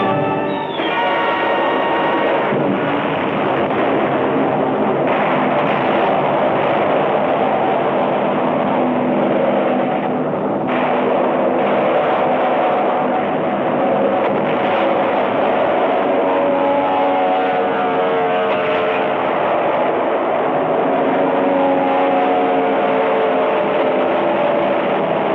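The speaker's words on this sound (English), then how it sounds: "Jap land-based fighters and bombers reinforced their sea strength." Wartime newsreel roar of land-based fighter and bomber aircraft, a dense continuous engine drone that stays loud and steady throughout, with a brief high whine near the start.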